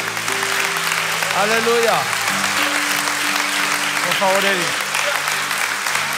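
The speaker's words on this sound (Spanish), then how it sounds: "Un fuerte aplauso, Señor." A church congregation applauds steadily throughout a pastoral ordination service, the clapping continuous and fairly loud while someone speaks and sings over it.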